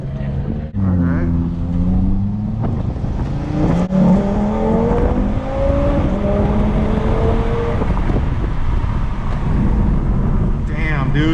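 A 2018 Audi RS3 quattro accelerates hard through quick gear changes, its engine note rising in repeated climbs and dropping at each shift, loud from inside the car while people talk.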